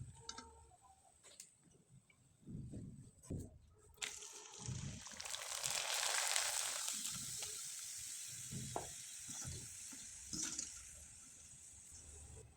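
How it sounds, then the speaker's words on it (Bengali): Ripe mango chips frying in oil over low heat give a soft, steady hiss with scattered light ticks and pops, quiet and continuous with no talking. "আমি আপনাদের অনেক কয়েকটা চিপসে ভেজে দেখিয়ে দিলাম"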